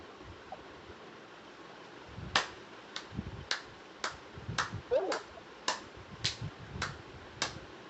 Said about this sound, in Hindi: उंगलियों को पूरा खोलेंगे, 10 बार ताली बजाएंगे